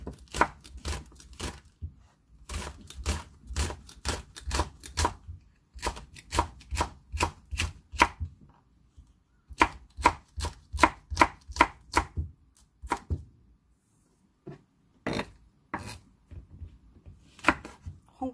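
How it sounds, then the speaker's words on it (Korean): Two Cheongyang green chili peppers sliced with a knife on a board, rapid runs of crisp close chops in bursts with short pauses between, no voices. "청양고추 2개 송송 썰어줍니다."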